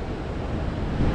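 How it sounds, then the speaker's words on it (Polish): Ocean waves roll against the coast at Reykjanes, Iceland, as a steady broadband wash mixed with wind buffeting the microphone, continuous and fairly loud, with no voices. "Jeszcze raz zobaczcie na widoki, przepiękne fale"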